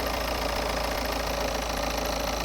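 A car engine idles steadily up close with a constant mechanical hum, a faint high squeak riding faintly above it.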